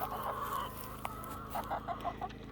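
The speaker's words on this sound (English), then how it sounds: "All 60 black Australorps doing great." A flock of about sixty black Australorp chickens on a homestead clucks softly, with several short rhythmic clucks close by over a low background hum.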